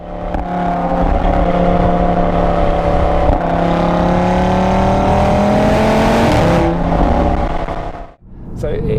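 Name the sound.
Audi RS3 five-cylinder engine driving through tunnels, external recording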